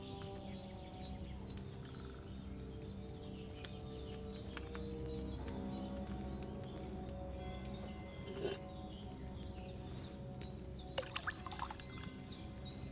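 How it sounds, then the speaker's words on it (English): Water poured into a cauldron in Kingdom Come Deliverance II, a steady continuous stream with light patter and drips over low ambient hum, with faint birdsong and a few sharp clinks. "So, what did you pour in there? Water."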